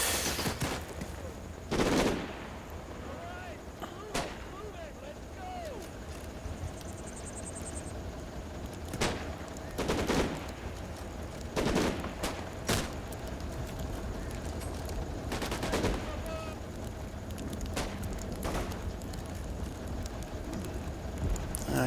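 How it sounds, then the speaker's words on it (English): Bursts of rifle and machine-gun fire from German troops in the Combat Mission: Battle for Normandy wargame, set in Operation Bluecoat, crack out in scattered sharp volleys over a steady battlefield background, some loud and close, others more distant. "Saying it, they start opening fire."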